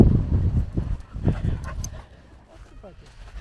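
Dogs out on a last walk along the beach at Burntisland, with brief yips and paw-scuffling close by under people chatting, the activity settling into quieter rustling toward the end.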